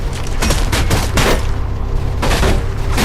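Loud bursts of rapid gunfire in the video game Mirror's Edge crackle and boom in quick succession, dense and continuous with no speech.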